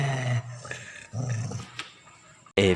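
A bad-tempered dog growls in several low rumbling bursts separated by short pauses, close and fairly loud, ending with a sharper snarl.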